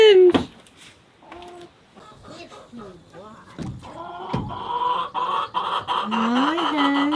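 New hens in a chicken coop cluck and squawk close by, with a few lone calls at first and a busier, more continuous flock chorus building toward the end.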